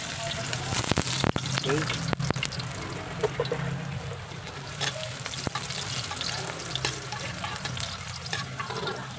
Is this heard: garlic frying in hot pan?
yes